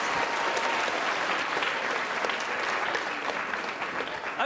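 Steady, dense audience applause at a Royal Institution Christmas Lecture, a full room clapping continuously and evenly without letup.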